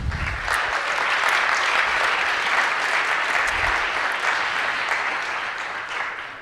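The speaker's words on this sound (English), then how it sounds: "please give them a round of applause" Sustained audience applause at a startup conference event in Los Angeles, a dense even clapping that holds steady for several seconds, then slowly tapers off.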